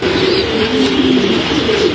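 Racing pigeons kept in pairs coo loudly and close by, a continuous overlapping murmur of low rolling calls with no talking over it.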